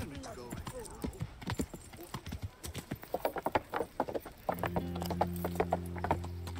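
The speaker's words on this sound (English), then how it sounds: "Can we park our horse here somewhere?" Horse hooves clip-clop at a steady walking pace in the medieval video game Kingdom Come Deliverance, fairly close and moderately loud, mixed with game ambience; a low sustained hum joins in near the end.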